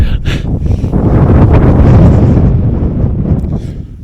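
Strong wind gusting through a narrow rocky gully on the Yorkshire moors at the Wainstones, a loud, continuous roaring buffet that swells and eases slightly without pause.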